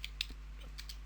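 Quiet computer keyboard typing during the Hugo 3: Jungle of Doom game, a handful of light, scattered key clicks spread irregularly over a steady low hum, faint and close, with no speech.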